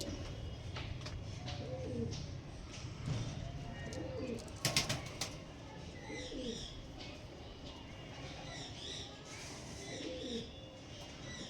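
Two female pigeons coo in low, faint murmurs over a busy noisy backdrop, with a few sharper clatters and chirps scattered through.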